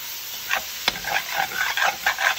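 Thinly sliced red, orange, yellow and green capsicum cooks in a pot with a soft sizzle and a few scraping stirs, quiet and close, with no talking.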